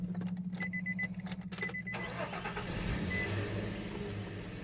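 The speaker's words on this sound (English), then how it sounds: "Cranks right up just like it's supposed to." A vehicle engine cranks in uneven bursts for about two seconds, then catches and settles into a steady running idle, heard up close with no talking.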